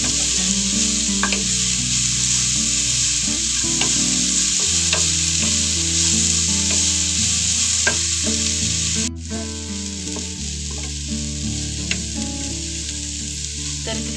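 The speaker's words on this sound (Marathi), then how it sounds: "गाजर ही छान असं मिक्स करून घ्यायचं आहे" Grated carrots being stirred in ghee in a pan for carrot halwa, with a continuous loud sizzle and frequent close spatula scrapes and taps. A steady background hum shifts partway through.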